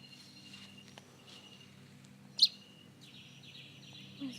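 A baby bird that fell out of its nest gives faint, sparse high chirps outdoors, one sharper peep standing out midway over a low, steady background.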